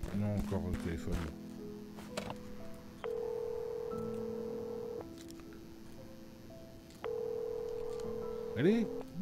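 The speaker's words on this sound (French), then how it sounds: "Non, encore le téléphone." Telephone ringing in the Celeste video game, heard as two sustained electronic tones that each hold for about two seconds over quiet background game music, with a short chime near the end.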